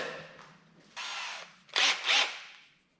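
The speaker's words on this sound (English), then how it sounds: "I'm gonna drill a pilot hole, because these are old boards" A power drill whirs briefly at close range, then bites into old wooden boards in two loud, rough bursts while drilling a pilot hole before winding down.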